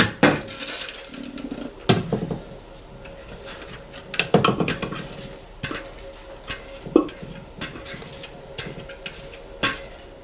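Mashed bananas, grated apples and eggs being mixed in a bowl for grain-free apple muffins, with irregular utensil scrapes and clinks against the bowl, close and moderately loud, alone without talk.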